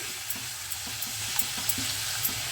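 Bottle gourd curry with lentil dumplings is stirred in a pan over steady sizzling, with soft, regular spoon scrapes repeating about every quarter second, close and without talk.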